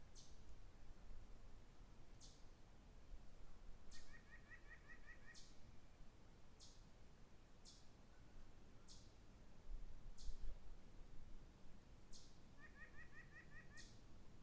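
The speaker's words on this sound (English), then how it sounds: "I don't know what kind of bird that is." An unidentified bird calls outdoors in a calm garden setting, giving several short, rapid trilling bursts spaced a few seconds apart, fairly faint and distant over quiet background hiss.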